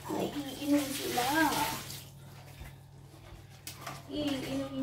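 Water poured into a drinking bowl for a litter of puppies, a soft continuous splashing trickle under a woman's chatter, then quieter moments with faint rustling before talking resumes.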